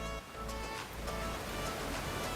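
Water, about 200 ml, is poured into the top of a filter coffee maker as a faint, steady rushing trickle with no talk.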